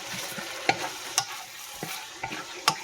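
Broccoli and chicken stir-frying in a pan with oyster sauce, a steady close sizzle broken by several sharp scrapes and clacks of stirring.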